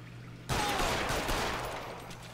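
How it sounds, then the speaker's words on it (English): Gunfire from the crime video game L.A. Noire: a loud, sudden burst of shots kicks in after a brief quiet lead-in, then continues as a dense, echoing volley that slowly tails off, with no one talking over it. "I shot that guy a couple times in the crotch."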